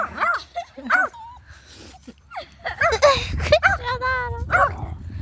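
A dog named Mirta yips, whimpers and gives short barks among other dogs, close by, with a person talking over and between the sounds throughout.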